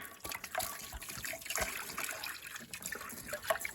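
Vinegar pours steadily into a rusty cast iron pan, a continuous soft splashing trickle with a few brighter drips, close and fairly quiet.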